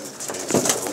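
A brief burst of close pigeon cooing from a loft of Fakir Gul pigeons, a soft throaty rolling call over a steady background murmur of other birds.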